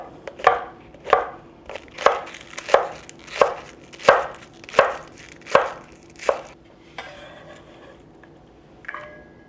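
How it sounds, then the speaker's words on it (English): Knife mincing garlic on a cutting board while making ramen: about nine crisp, evenly spaced chops close by, followed by a few softer scraping sounds, with no talking. "I get a little different knife when I'm going to do garlic mincing"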